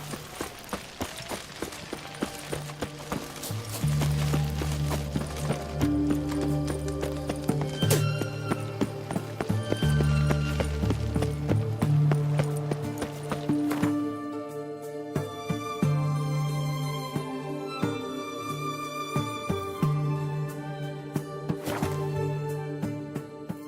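Roach, the horse in The Witcher 3, gallops with steady, rhythmic hoofbeats, loud and close, over game music and mechanical clinks, with a brief whinny.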